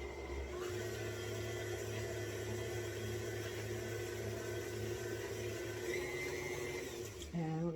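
An electric stand mixer whirs steadily, beating molasses into molasses cookie dough in a bowl, a continuous near motor hum that winds down and stops near the end.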